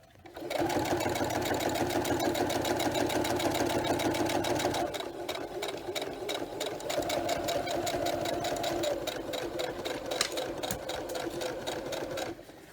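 A sewing machine in need of a service stitches vinyl for a zipper pouch, its needle hammering in a loud, fast, steady clatter that changes pitch partway through and carries on to the end.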